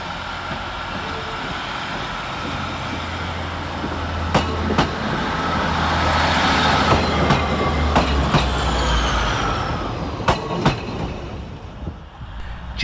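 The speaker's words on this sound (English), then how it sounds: "Next out to depart will be 156487, working the 1332 Northern Service through to Morpeth" Northern class 156 diesel unit pulling out of Carlisle station: a low engine rumble builds and swells through the middle, sharp wheel clicks and squeals cut in, then the sound eases away, with no talking.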